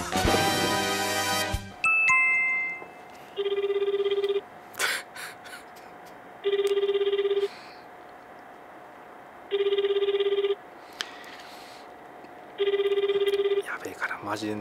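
A telephone ringback tone sounds while a call is being placed: four evenly spaced electronic ring bursts with pauses between them, after a short burst of musical tones at the start, over faint background noise.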